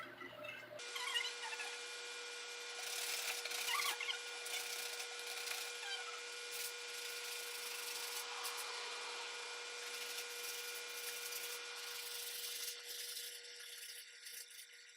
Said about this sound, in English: I'm folding it onto the sandpaper to create like a little point, so that I can get into the little grooves